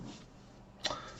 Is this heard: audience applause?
no